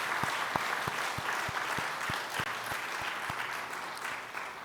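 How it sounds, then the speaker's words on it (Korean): A church congregation applauds steadily to welcome a returning member, a sustained patter of many hands clapping at moderate distance with a few sharp louder claps. "박수로 우리 환영하겠습니다"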